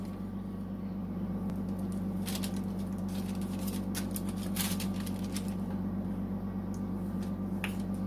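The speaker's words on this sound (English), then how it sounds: "just take it in your hand and just pat it together like that" Hands pat biscuit dough together with soft, irregular slaps and pats in a cluster through the middle, set against a steady low hum and some faint higher whine.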